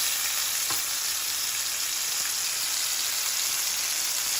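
Steak sizzles steadily in a hot pan over medium-high heat, a dense continuous frying hiss with a couple of faint stirring or spatter ticks and no talking.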